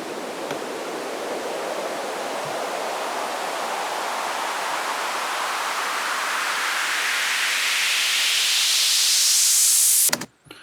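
A synthesized white noise sweep rises steadily in pitch and loudness for about ten seconds, then cuts off abruptly with a short burst at the end.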